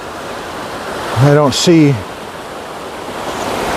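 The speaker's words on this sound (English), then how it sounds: "So here's a nice river we got to cross." A river flowing on the Appalachian Trail gives a steady, full rush of water that runs throughout, close by and fairly loud. Someone says a few words partway through over the flow.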